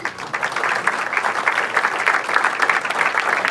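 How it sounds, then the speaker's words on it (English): A crowd at a Rhode Island Democratic gathering applauds elected officials, a sustained burst of clapping from many hands that stays fairly close and loud, with no voices over it. "how about a round of applause for them?"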